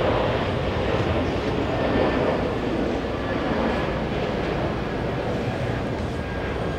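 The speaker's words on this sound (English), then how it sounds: "We have Aer Lingus heading Aer Lingus taking off." A heavy Aer Lingus airliner roars on takeoff at JFK airport, a loud, sustained broadband engine rumble and rush that holds steady throughout, with no voices over it.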